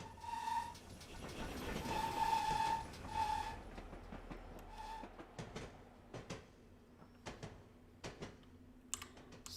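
Steam locomotive idling at Exeter St David's platform in Train Simulator 2020, with the blower on and coal being added: a steady rail rumble, several short whistle-like tones early on, then scattered metallic clicks and knocks at moderate level.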